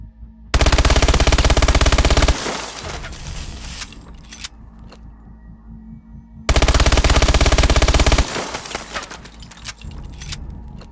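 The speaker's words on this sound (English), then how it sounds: "And now look what I mean by hip firing with this gun." MP11 submachine gun hip-fired in Call of Duty Advanced Warfare, two loud sustained bursts of rapid automatic fire, each about two seconds long, followed by quieter mechanical clatter and shell rattle.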